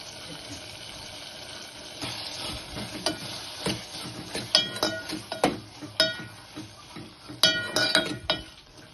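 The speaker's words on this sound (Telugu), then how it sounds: "కొద్దిగా ఆయిల్ వేసుకోండి దీంట్లో కొద్దిగా చింతపండు ఇలా చింతపండు వేసుకొని ఇందులో పసుపు వేసుకోవాలి" Tamarind and turmeric frying in a little oil in a pan for a fenugreek-leaf chutney, a soft steady sizzle under repeated clinks and stirring scrapes that grow busier toward the end.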